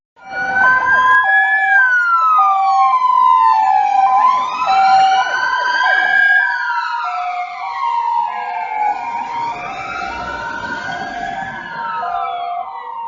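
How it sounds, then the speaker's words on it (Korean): A wailing ambulance siren rises and falls in long sweeping tones, loud and steady throughout, with no voices. "이 소리는 구급차 소리인데요. 구급차가 지나갈 때면은 어김없이 들리는 소리가 바로 이 소리죠"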